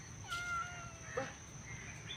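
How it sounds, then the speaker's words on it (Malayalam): A kitten gives a couple of thin, short meows, fairly faint against a quiet room background. "പൂച്ചക്കുട്ടി"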